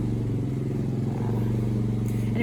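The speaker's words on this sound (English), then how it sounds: "Somebody mowing their lawn." Steady motor drone of a lawn mower running in a neighbouring garden, a low continuous hum heard at a distance throughout, with no voices over it.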